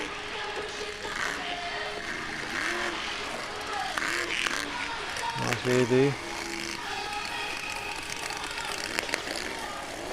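A monster truck engine revs at a World Series show in Gosford, Australia, running rough with crackling and popping, heard at a distance over constant crowd and arena noise while a commentator talks.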